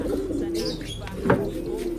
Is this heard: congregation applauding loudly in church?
no